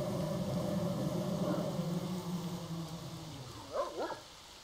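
Dogs bark and yelp in the S.T.A.L.K.E.R. video game mod, a couple of short calls near the end over a steady low droning game ambience.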